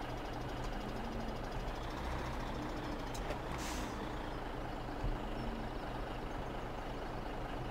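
A Volvo truck in Farming Simulator 17 rumbles with a steady low engine drone, and a short hiss of air brakes rises briefly around the middle; the sound stays quiet and even throughout.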